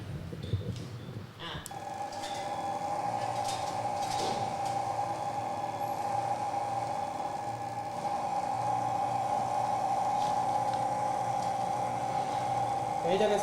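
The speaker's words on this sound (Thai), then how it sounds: "อันนี้คือเสียงสตาร์ทเครื่อง" A small FST power sprayer engine starts with a clatter, then runs steadily with a constant droning whine, fairly quiet and continuous.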